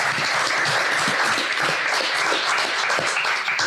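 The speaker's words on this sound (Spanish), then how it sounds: "Un aplauso para vosotros, por favor." A roomful of people applauds at a climate-tech entrepreneurship event, a steady, full wash of clapping that holds evenly throughout without any speech over it.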